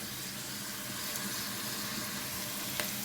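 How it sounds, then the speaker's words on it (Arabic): Onion and lamb meat sautéing in a pot sizzle in a dense, even crackle, moderately quiet and close, with a brief sharper click near the end and no talking. "اشوح برده كده شويه، اخلي البصل يعني لونه يتغير"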